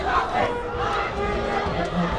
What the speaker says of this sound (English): Final 2 minutes, crowd just buzzing still.